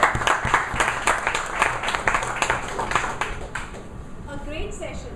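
An audience claps at a Toastmasters meeting, a burst of brisk, fairly close applause that tapers off after a few seconds as a voice begins speaking.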